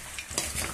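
Potatoes frying in hot oil on medium-high heat are stirred, with a close, steady sizzle and a brief scrape of the utensil in the pan.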